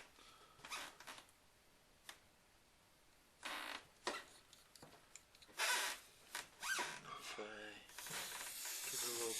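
Knife blade drawn backward across a 1K Arashiyama whetstone for a few rasping, creaky strokes, close and fairly quiet, separated by short pauses, with a rougher continuous scrape at the end.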